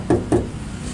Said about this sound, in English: let's give it a knock and see what happens.